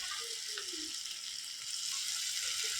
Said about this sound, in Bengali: এবার তালের বড়া দেওয়া হচ্ছে।